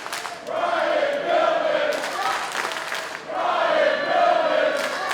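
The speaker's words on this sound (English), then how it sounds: "And listen to this crowd. They're chanting for Pillman." Packed wrestling crowd in Norfolk chanting in two loud, sustained rhythmic surges, swelling and dipping as the arena roars for a returning wrestler.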